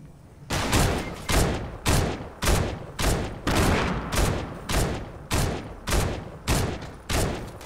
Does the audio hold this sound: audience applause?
no